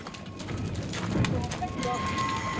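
Hooves of a Shire or Clydesdale railway horse clip-clop at a steady walking rhythm, fairly close, with a voice talking over them.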